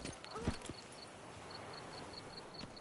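Roach, a horse in The Witcher 3 video game, with soft hoof clip-clops under a steady wash of ambient game sound and a faint recurring chime, fairly quiet and indistinct.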